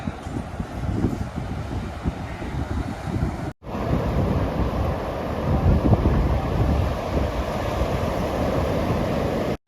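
Wind and surf on the open beach at Digha, a steady loud rushing roar of wind buffeting the microphone over continuous breaking waves, with a brief cut partway through.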